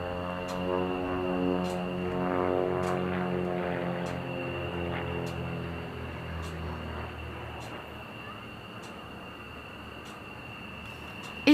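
Pitts S2B aerobatic biplane performing at the Paris Air Show at Le Bourget, its engine note droning steadily with shifting harmonic tones as it manoeuvres, fairly loud and continuous with no talk.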